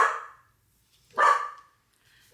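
A dog barks twice, sharp and close, with a pause of about a second between the barks and near silence around them.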